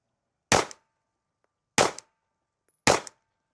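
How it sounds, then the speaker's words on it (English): Three sharp handgun shots ring out downrange at a shooting range from 7 yards, evenly spaced about a second apart, each a loud crack with a brief decay, with silence between. "we're just gonna get a couple shots downrange before we get started to get a feel."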